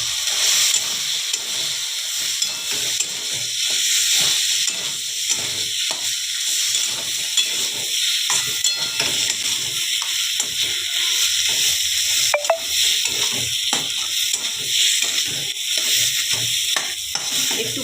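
Soybean mash with turmeric and salt sizzles steadily in a pan while a spatula stirs and scrapes it in an irregular rhythm, close and continuous with no talking.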